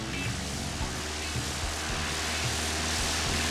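A propeller airplane drones steadily and close by, its engine hum holding a constant level throughout with faint pulsing low tones.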